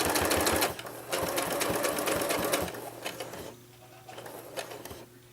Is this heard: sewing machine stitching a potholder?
yes